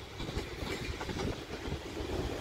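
South Western Railway passenger train passing close by at Guildford station, wheels clattering rhythmically over the rails in a steady, continuous roll.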